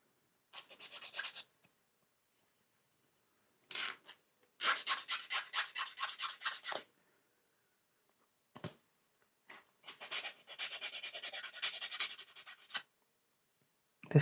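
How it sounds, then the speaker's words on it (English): Sanding of a small plastic model aircraft kit part, an Airfix Red Arrows Hawk, in dry rasping bursts of rapid back-and-forth strokes, close and clear, separated by short quiet pauses. "I'm sure you can hear me sanding it"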